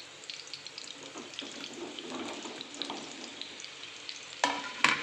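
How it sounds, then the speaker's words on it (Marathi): Okra fries and is stirred in a pan for a dahi bhindi dish, giving a soft, steady sizzle with light scraping. Sharper clatters of the pan or spoon come close up near the end. "आता आपण याच्यात भेंडी टाकून घेऊ"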